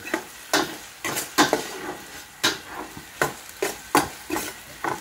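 Onions and hotdog sautéing for home-style spaghetti, with regular scraping strokes of a spatula in the pan over a soft background sizzle.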